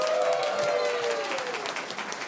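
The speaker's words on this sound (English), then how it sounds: "everyone clap for Ashley." A live convention audience claps and cheers for Ashley, with dense applause carrying steadily and a brief whoop rising over the clapping early on before fading slightly.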